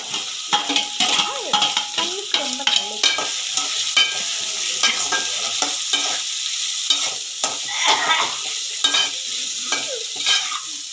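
Tomatoes and carrot sauté in a pan for vegetable noodles, a soft sizzle running underneath while a spoon repeatedly scrapes and clanks against the metal in irregular strokes.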